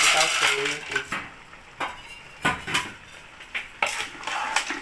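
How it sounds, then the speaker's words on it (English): Washed periwinkles tipped into a pot of Nigerian afang soup, a series of hard shelly clatters and clinks against the pot, irregular bursts with quieter gaps between. "after stirring, we're going to be adding our washed periwinkles"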